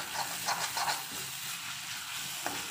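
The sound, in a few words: stirring turmeric powder into egg bhurji in a pan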